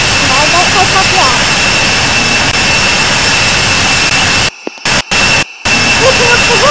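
A jet airliner engine in the Infinite Flight video game roars loudly and steadily at takeoff power, a dense, continuous rumble broken by a few brief dropouts near the end.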